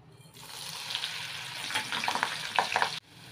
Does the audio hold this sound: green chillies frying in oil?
yes